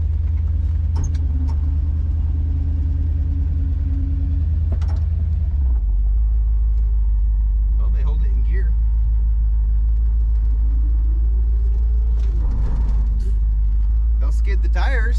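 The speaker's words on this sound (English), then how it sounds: "We're just gonna go around the back, come around the front, and see how the brakes work." Classic car fitted with a modern master cylinder and manual brakes, its engine rumbling steadily and loudly close by during a brake check, with people talking over it.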